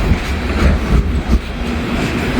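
Freight train with a distributed-power locomotive rolling past close by, a loud, continuous rumble of wheels and railcars with faint rhythmic clatter.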